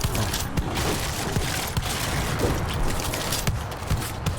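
Grenade explosions and gunfire in the zombie shooter game World War Z. Rapid bursts of shots blend with dull booms in a continuous, dense barrage.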